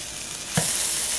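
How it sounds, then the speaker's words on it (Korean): Cabbage mixture hits a lightly oiled pan and sizzles steadily, with a short stirring bump partway through as the frying carries on at an even level. "오일은 조금만 넣고 양배추 혼합물을 전부 부어주세요."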